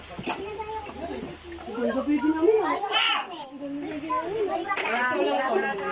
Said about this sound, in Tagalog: Yung mga bata din na nagsikain, nagsilaro na lang.